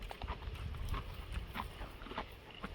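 A black horse's hooves clip-clop steadily outdoors, mid-distance, under constant wind and ambient rumble that keeps the knocks partly buried.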